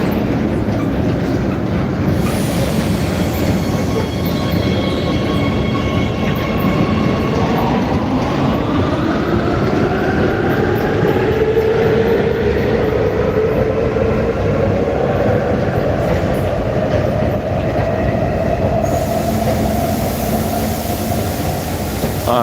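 An elevated metro train runs along a raised track, a loud, steady rolling rumble with a whine that rises and falls in pitch as it travels, heard alone with no talking.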